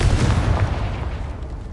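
A Confringo fire spell blast in a Harry Potter video game, a loud booming burst that rumbles and slowly fades over under two seconds, with no talk.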